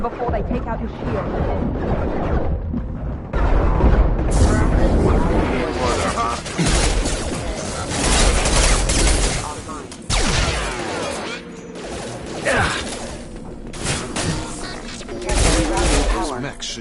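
Sustained gunfire in a Mass Effect firefight against hostile mechs, loud and dense with bursts and impacts, with game voices heard over the shooting.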